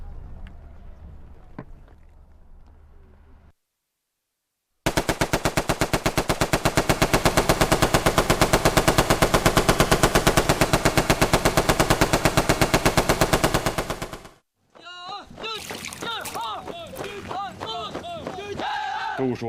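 Long sustained burst of rapid machine gun fire, loud and close, running unbroken for about ten seconds after a short silence, followed by further shots mixed with movement and running sounds.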